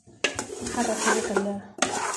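A spoon scrapes and clanks against a pot while lamb with rosemary is stirred, with a sharp metallic knock at the start and another near the end, and soft sizzling between.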